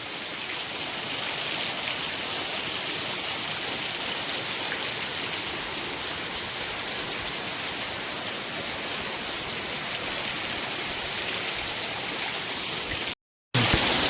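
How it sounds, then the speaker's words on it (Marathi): Heavy rain pours down with strong wind over a village, a dense, constant hiss of downpour close by that runs without a break and cuts out briefly near the end. "वादळ वाऱ्यासह पावसाचे पुन्हा एकदा आगमन झाले."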